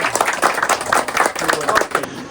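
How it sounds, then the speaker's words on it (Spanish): An audience claps at the close of a ceremony in Cusco, Peru, honoring its master, a brisk run of fairly loud, rhythmic hand claps that continues without a break through the short stretch. "un fuerte voto de aplausos para nuestro maestro"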